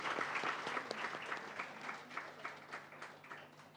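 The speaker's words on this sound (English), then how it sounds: "A huge round of applause for you all" Audience applause fills a hall at a business school HR conclave, a dense, steady clatter of many hands held close and loud, gradually thinning toward the end with no voices over it.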